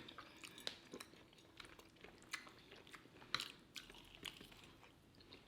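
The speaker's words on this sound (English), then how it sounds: "And I'm chewing up some of the gristle" Someone chews barbecue rib gristle close to the mouth, with soft, irregular wet crunches and clicks over quiet background and no talking.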